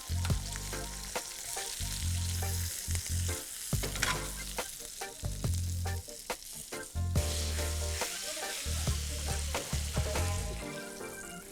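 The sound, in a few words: tomatoes charring and sizzling in a pan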